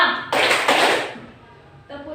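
Students in a junior high school classroom clap out the "tepuk malam" clap-game pattern: two sharp bursts of group clapping close together, then a pause before a voice briefly speaks.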